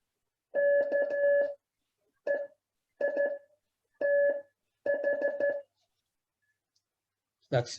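Morse code tapped out on a key, a steady beeping tone in several separate bursts of long and short lengths with silent gaps between.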